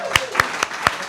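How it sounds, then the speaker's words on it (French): On a TV show set, four evenly spaced, crisp claps ring out close by in just over a second, sharp and brief, as guests are welcomed. "Applaudissez tout le monde."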